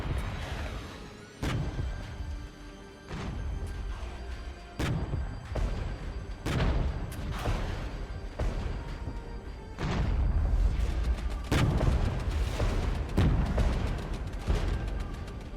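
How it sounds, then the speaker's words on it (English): Artillery fire in the war game Regiments, a string of sharp booms and heavy impacts recurring every second or two over a constant dense rumble of battle, loud and close throughout. "Artillery is fierce as well."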